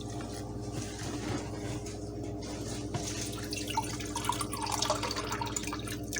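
Water trickles and splashes steadily into a bowl, a continuous pouring sound with faint clinks, no voices present.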